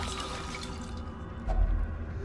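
Holy water splashing and dripping onto a pile of bones in the dark fantasy game Darkest Dungeon, a short liquid pour over a steady ambient game drone, with no talk.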